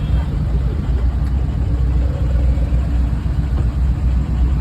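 A car engine running as the car is parked on the way to Muktai waterfall; a steady low rumble that stays close and even, with no clear revving.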